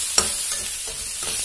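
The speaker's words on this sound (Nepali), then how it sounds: "करिब करिब 4-5 मिनटसम्म चलाउनुपर्छ, अलि पाक्न थालिसक्यो" A maize mixture cooking in a pan is stirred in a few gentle, evenly spaced scraping strokes over a faint steady sizzle, heard close with no voices.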